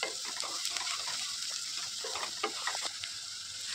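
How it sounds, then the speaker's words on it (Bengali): Onions stirred and frying in a pan with a little salt, for restaurant-style crispy chilli baby corn: a soft, steady sizzle with faint scraping stirs, quiet and close, no talking. "পেঁয়াজটাকে একটু ভালো করে নাড়িয়ে চাড়িয়ে নেবে"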